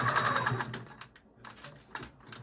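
Domestic sewing machine quilting down the seams of a thick, plush minky-like Costco blanket used as backing for a quilt-as-you-go top, running in short close bursts with brief pauses.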